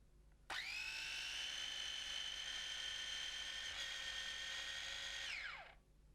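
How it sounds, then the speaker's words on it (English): A kitchen blender whirs steadily for about five seconds, puréeing pesto ingredients with olive oil and salt into a sauce. It starts abruptly, holds a loud, even high-pitched motor whine, then winds down at the end. "Then whiz everything to a sauce."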